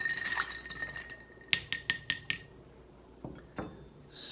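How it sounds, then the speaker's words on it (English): Ice clinks sharply against the inside of a glass as a martini gets a final stir, five quick rhythmic clinks close up, followed by a couple of softer knocks. "Anyway, final stir here."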